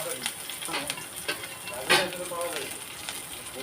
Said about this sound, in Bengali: একটু কালো জিরে দিলাম রসুন দিলাম আর একটু পেঁয়াজ দিলাম